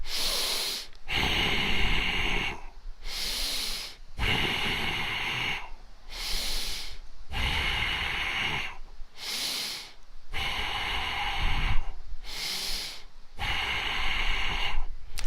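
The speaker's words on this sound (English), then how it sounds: "That's a sample of what the dynamic tension breathing exercises that we will be doing." Deep, forceful breathing during a senior fitness dynamic tension exercise, with loud rhythmic inhales and hissing exhales repeating steadily, roughly one breath every two seconds, close to the microphone and with no talking.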